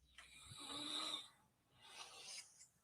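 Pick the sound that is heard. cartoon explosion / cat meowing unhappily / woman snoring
woman snoring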